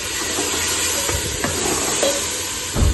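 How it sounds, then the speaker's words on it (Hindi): Spice masala and tomatoes fry in a pan, a continuous close sizzle with light scraping stirs, ending in a louder clatter. "बस इसको मसाले को भून के अच्छी तरह से, टमाटर गल जाएंगे ना"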